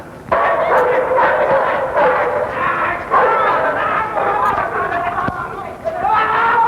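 A dog yips and barks repeatedly amid loud, overlapping voices of a lively crowd nearby.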